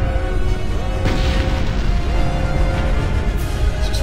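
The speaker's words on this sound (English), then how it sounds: "Explosions." Explosions boom through a Star Wars KotOR battle scene aboard a starship under attack, a dense continuous rumble of blasts and crashes with low roaring underneath.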